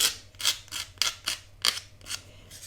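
A nail file sands off small nubs on paper pieces in quick, close back-and-forth strokes, about eight short rasping bursts in an even rhythm, with no talking.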